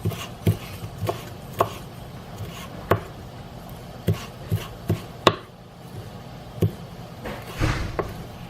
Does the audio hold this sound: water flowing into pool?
no